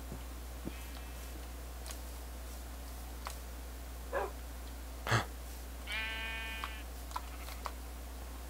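Freshly sheared sheep bleat in the distance, with a few scattered calls including one longer wavering bleat, all faint over a steady low hum.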